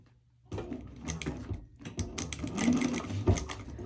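A sewing machine stitches a purse in a quick rattling run, briefly pausing before starting again, close and alone with no talk.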